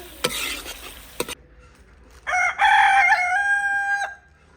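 A rooster crows loudly nearby in a Punjabi village, a long drawn-out call after a couple of brief sharp knocks and rustles, with chickens around.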